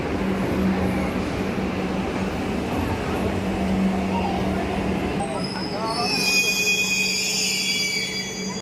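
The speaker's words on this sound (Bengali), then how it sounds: "ট্রেন সাথে সাথেই চলে আসলো।" A Kolkata metro train pulls into the station with a loud, steady rumble, then shrill wheel and brake squeals rise near the end as it slows, with faint crowd murmur in the background.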